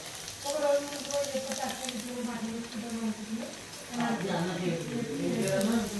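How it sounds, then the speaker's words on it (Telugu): Onions fry in a pan with a continuous soft sizzle beneath a person talking through most of the moment. "ఉల్లిగడ్డ వేయించినాం."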